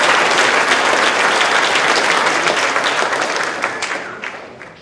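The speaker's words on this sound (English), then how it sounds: "So can we just take a moment and give a round of applause to our first generation college students" A banquet crowd breaks into loud sustained applause, a thick roar of clapping that holds steady before thinning and fading toward the end.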